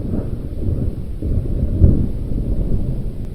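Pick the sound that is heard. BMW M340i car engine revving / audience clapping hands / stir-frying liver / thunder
thunder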